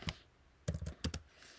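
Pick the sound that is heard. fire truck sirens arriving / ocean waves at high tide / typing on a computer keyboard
typing on a computer keyboard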